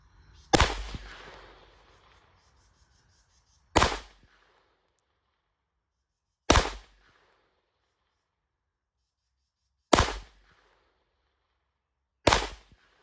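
Five sharp pistol shots from a 1990s Smith & Wesson semi-automatic, fired at a target about 10 yards away, each crack loud and isolated with several seconds of silence between them.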